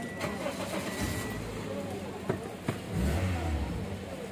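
A Toyota car cranks and fires up using a flip key, a short starter whir followed by a low engine rumble settling into idle, mid-level and close, with background voices talking.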